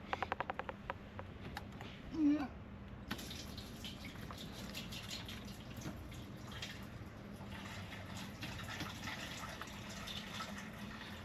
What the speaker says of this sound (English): This is how you fill the water in a van in Spain